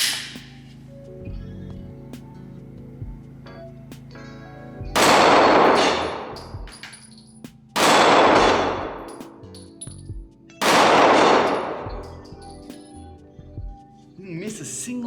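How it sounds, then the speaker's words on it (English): Three loud, close gunshots from a Smith and Wesson Shield Plus pistol chambered in 30 Super Carry, fired firing hollow point rounds, each a sharp blast with a ringing decay, spaced a few seconds apart, with quiet background between. "do some shooting"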